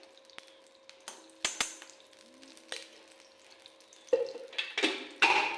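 Two spoonfuls of ghee heat in a hot iron kadhai over a low gas flame for peanut chikki, giving a soft, intermittent sizzle with scattered crackles and a few metallic clinks that grow louder near the end.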